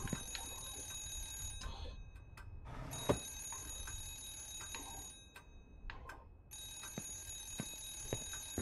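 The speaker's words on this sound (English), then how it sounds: "the ringing's getting on probably everybody's nerves" A ringing telephone-style bell in the horror game Remothered: Broken Porcelain, repeating in bursts with brief gaps between them, sharp and shrill over low background rumble, with no talk.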